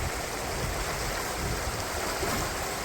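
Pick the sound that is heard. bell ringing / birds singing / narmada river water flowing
narmada river water flowing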